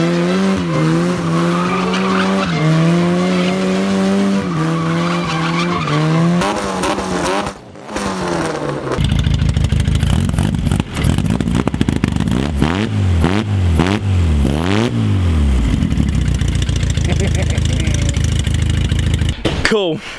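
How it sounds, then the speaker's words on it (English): A car with a welded differential doing burnouts: engine revving hard with shifting pitch, then screeching tire skids and squeals layered over the roaring engine, loud and close. "Burnouts are on point."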